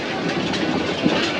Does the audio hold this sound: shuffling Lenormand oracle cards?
no